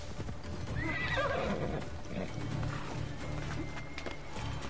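Horse in Assassin's Creed Odyssey, hooves clip-clopping at a gallop with a loud whinnying neigh partway through, over steady game ambience.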